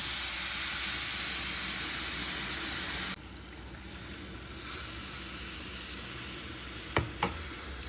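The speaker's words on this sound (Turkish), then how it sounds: "Bir 5 dakikada bununla kavuracağım kısık ateşte arkadaşlar" Semolina and sugar roast in a pan over low heat, giving a soft, steady sizzle and hiss with a faint scrape of stirring and a couple of sharp clicks near the end.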